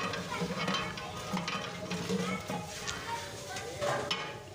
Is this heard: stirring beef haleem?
yes